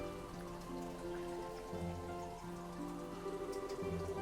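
Rain falling in a scene from the video game Trails in the Sky the 3rd, a soft steady patter beneath sustained musical tones, with no voices.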